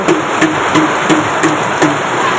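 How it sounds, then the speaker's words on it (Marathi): Heavy rain pours down in a loud, steady wash, with soft regular thumps repeating through it. "कसला पाऊस आहे भयंकर"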